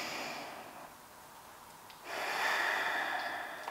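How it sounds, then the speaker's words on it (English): Slow breathing during a full-body stretching exercise, a soft exhale followed by a louder, longer breath through the nose, close and alone without talk. "I'm breathing."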